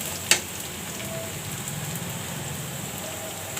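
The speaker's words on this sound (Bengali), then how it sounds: "এখন পেঁয়াজটা আমার ভাজা হচ্ছে।" Onions fry for a mashed taro root dish, giving a steady, even sizzle like light rain throughout, close but moderate, with one sharp tick near the start and no talking.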